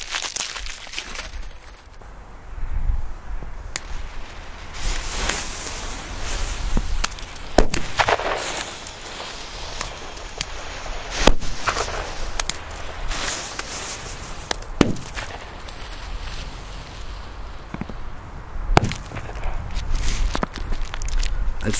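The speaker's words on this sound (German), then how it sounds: "So, es folgen die neuen Katan D-Böller." Outdoors in winter, new Katan D firecrackers go off as a few scattered sharp cracks several seconds apart, mixed with crunching footsteps and ambient noise.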